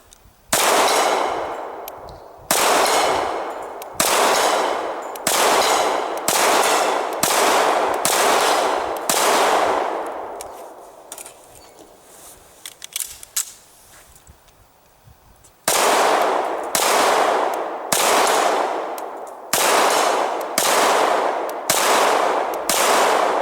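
A SIG 220 pistol in .45 caliber fired on a shooting range: loud, sharp shots in quick regular strings, each with a ringing decay, then a quieter pause with faint clinks before another rapid volley.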